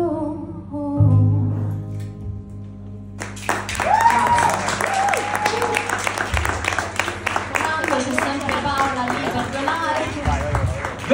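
Audience applause after a live performance of a song at Centrale 66. A few seconds of fading music with a low hum give way to dense, steady clapping that carries on to the end.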